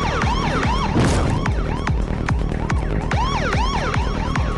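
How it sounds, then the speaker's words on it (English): A police car siren in the Techno Police simulator game on iPad wails in rapid, repeating up-and-down sweeps, loud and continuous throughout. "There's a police car speeding down the road, there's flashing lights and there's music in the background."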